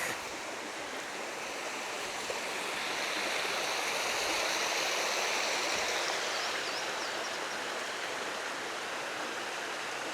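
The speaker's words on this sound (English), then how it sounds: "Another stream that's kind of a tributary to the Niobrara." A small stream feeding the Niobrara River flows in a steady, full rush of water, continuous and fairly close, with no voices over it.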